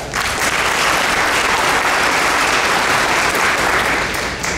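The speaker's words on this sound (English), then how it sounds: "I'd like to give you all a round of applause for coming." Audience at a community dinner with candidates applauding, steady dense clapping from many people, loud and sustained throughout.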